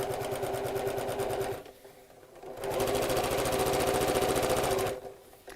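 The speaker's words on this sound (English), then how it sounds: "So you carry on sewing for as long as or as deep as you need the shirring elastic section of your garment to be." A domestic sewing machine stitching shirring elastic into fabric runs in two loud, steady bursts of rapid mechanical clatter, separated by a short quieter pause.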